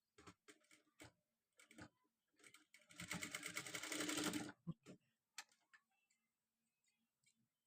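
A sewing machine stitches fabric for a rose latkan in a short burst of fast, even whirring and clatter, surrounded by scattered ticks and handling noises in a quiet room.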